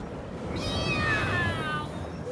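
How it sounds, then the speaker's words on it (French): A cartoon cat gives a drawn-out meow with a falling, wavering tone over a steady, noisy background hum in an animated children's ocean adventure, moderately loud with no speech. "Miaou."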